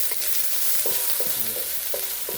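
Pork and imitation crab meat sauté in a pan for bacon fried rice, a constant bright sizzle punctuated by several quick spatula scrapes and knocks, with no voices.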